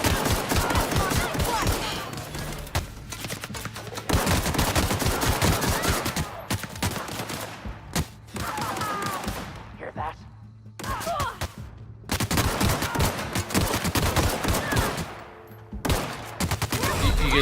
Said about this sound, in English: I'm just going in there shooting everybody